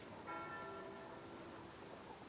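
Church bells ring faintly in the distance, a soft tonal chime sustained briefly over a steady background hiss.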